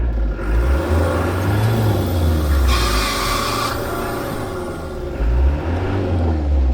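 Rescue vehicle straining to pull a stuck Land Rover from a river in Namibia, a loud low engine rumble that rises and falls in revving surges and runs continuously up close.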